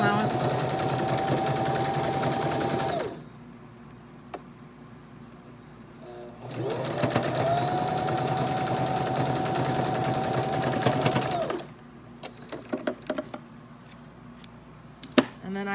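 Sewing machine stitching the seams of a fabric face mask at a half-inch seam allowance, two sustained close motor runs separated by a pause, with handling clicks and brief speech between and after.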